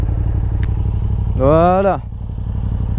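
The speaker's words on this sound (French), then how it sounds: "je fais écouter le bruit de l'échappement" A Yamaha MT-07 motorcycle with an Akrapovic Racing carbon full exhaust system idles close by in a deep, pulsing rumble, while someone briefly says one word partway through.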